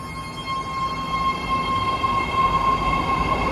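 A nine-car, three-door Blue Line train to Dublin/Pleasanton pulls away from a station platform, giving a steady, fairly loud rumble with a thin, sustained electric whine over it, growing slightly as it departs.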